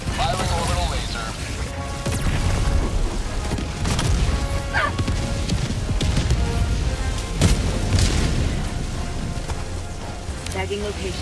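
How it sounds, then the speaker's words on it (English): An orbital laser strike fires in the video game Helldivers 2: a loud, continuous roaring rumble with heavy booms and crashes throughout, with faint voices in the background. "Firing orbital laser."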